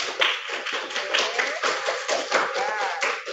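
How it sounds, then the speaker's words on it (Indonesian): A classroom group claps for a student team, an uneven close patter of hands with voices talking over it throughout. "Tepuk tangan."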